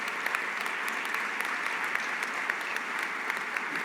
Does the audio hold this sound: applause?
yes